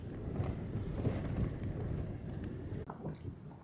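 Wind buffets the microphone in a steady low roar on a snowy winter backpacking trip, gusting unevenly with a brief dip near the end, no voices present.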